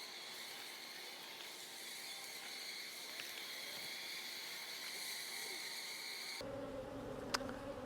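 Honeybees buzz in a steady, dense drone around a beehive during a hive split in the bottom box, continuous and moderately close throughout, with the tone shifting near the end.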